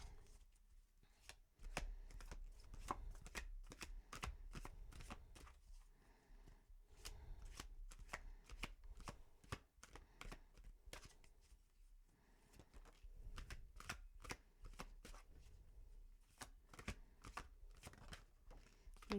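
Tarot cards shuffled in the hands during a finance reading, a steady run of crisp riffling flicks and soft slaps that starts and stops in bursts, close and alone with no voices.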